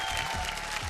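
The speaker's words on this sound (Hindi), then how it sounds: "जोरदार तालियों से स्वागत करी दोनों जजेस लोग के" Audience in a Bhojpuri TV talent show studio applauding loudly to welcome the two judges, a dense steady wash of clapping through the whole second.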